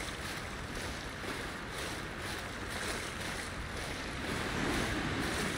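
Ocean waves rolling in the video game Ring of Elysium during rainy weather on the new map, a steady wash of surf and wind with slow swells, no talking.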